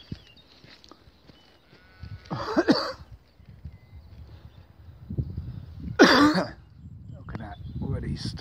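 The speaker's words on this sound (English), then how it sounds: "Sorry, I'm coughing." A couple of harsh, throaty coughs burst out close by amid outdoor rustling and movement noise.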